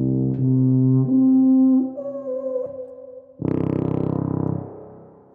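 Tuba played with its mouthpiece, a few low brass notes rising in pitch and then a louder buzzy low blast, played alone and close.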